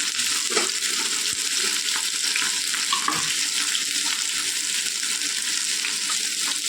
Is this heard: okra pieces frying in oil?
yes